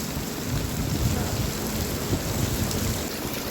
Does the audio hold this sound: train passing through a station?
no